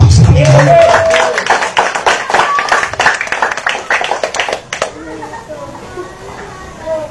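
A congregation claps in a church during a sermon, a lively run of many hands clapping that tapers off into quieter murmuring and voices, fairly close and loud.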